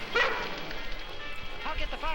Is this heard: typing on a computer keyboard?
no